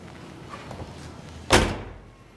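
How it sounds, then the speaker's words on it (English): A 1968 Dodge Charger R/T door shuts with a single solid, close thunk and a short fading rumble, preceded by faint quiet handling sounds. "Doors shut great."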